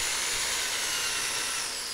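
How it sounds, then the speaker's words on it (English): A power drill bores steadily into a sensor bracket for a dance pad build, a continuous close whine with a constant, unbroken tone. "This one gets a little bit scarily close to my hand as I'm drilling"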